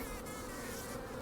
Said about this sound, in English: I have no idea what this sounds like because this is the first time I've used the microphone with this many bees